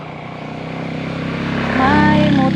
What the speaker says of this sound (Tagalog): May motor na dumaan.